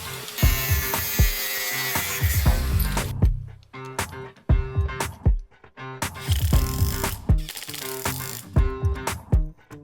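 A power tool cuts steel for the brake setup of a go kart, harsh grinding bursts broken by sharp clanks and rattles in an uneven, repeating rhythm, close and fairly loud.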